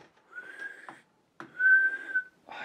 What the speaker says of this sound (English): Oh, I suck at whistling.